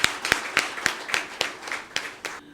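Sparse clapping at a graduation ceremony for the 7th class of Vidéo Lea in France, about eight sharp, evenly spaced claps, close and fairly loud, with no talk over them.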